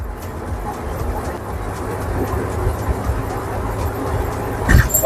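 Inside a Jeep TJ Wrangler on the move, a steady low road-and-engine rumble fills the cabin at a constant moderate level, with a faint rattle near the end.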